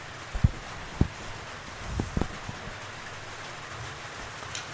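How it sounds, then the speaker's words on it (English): Steady rain falls over a baseball field during a college game, a soft continuous hiss with a few scattered thumps and taps rising above the wash. "as we do have a pretty steady rain"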